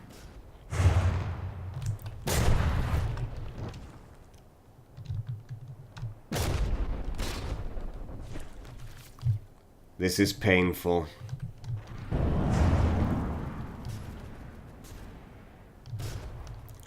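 Cannon fire in the naval combat game From the Depths: several sharp, broadband blasts spaced a few seconds apart, with someone talking between and over them.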